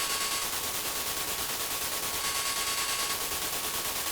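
Techno bass pitched down with a frequency shifter and then run through an erosion effect, giving a dense, gritty, noisy texture that holds steady and loud for the whole stretch with no pauses.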